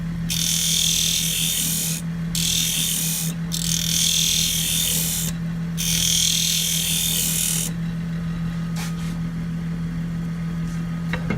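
A hand tool trims a recycled plastic handle smooth, making loud, steady scraping in long runs broken by brief pauses, then fading to a quieter background hum with a few faint knocks.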